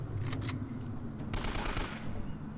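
Gunfire crackles in Uncharted: Drake's Fortune, a rapid burst of close, loud shots followed by a longer roaring volley, all over a constant low rumble of battle.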